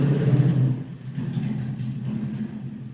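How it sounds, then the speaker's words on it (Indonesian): A motorcycle engine passing outside, a loud mid-range rumble that swells early and then settles into a steadier, fading drone. "ada suara motor"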